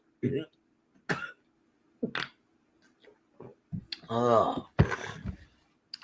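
A person coughs several times in short bursts, then clears their throat with a longer rasping effort, close and fairly quiet.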